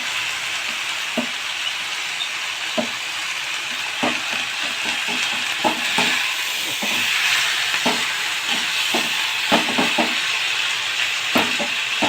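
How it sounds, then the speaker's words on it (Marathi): Marathi-style fenugreek leaf stir-fry with garlic is stirred in a hot pan: a steady loud sizzle with irregular spatula scrapes and taps against the pan throughout, close by and without speech. "आता त्याला हलवून घ्यायची, भाजी व्यवस्थित हलवून घ्यायची।"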